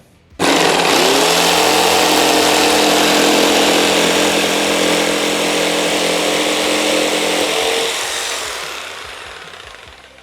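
An Assur electric jigsaw starts abruptly and cuts a curve with a loud, steady buzzing whine for about eight seconds, then winds down and stops.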